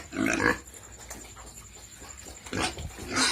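Pigs on a farm eat at feeding time, with close grunts, squeals and snuffling in short bursts over steady background noise.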